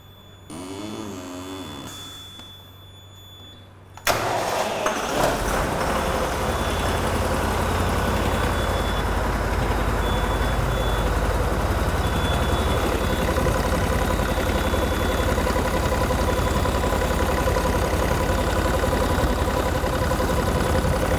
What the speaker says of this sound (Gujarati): એન્જિનને સ્ટાર્ટ કરીશું એન્જિન સ્ટાર્ટ કર્યા પછી એન્જિનને થોડી વાર આઇડલ સ્પીડમાં ચાલવા દઈશું